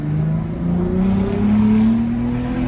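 A Ford Raptor F150 pickup engine revs hard, its pitch climbing in repeated rising sweeps, loud and close throughout with no talking.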